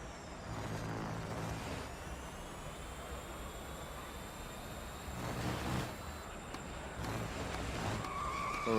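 Engine drone and screeching tire skids from a car in the Real Racing 3 mobile racing game, continuous and fairly loud with a few sharper surges.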